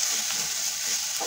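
Steady bright sizzling of onion and ginger frying in hot oil for a rajma tempering, a continuous crackle with faint stirring scrapes.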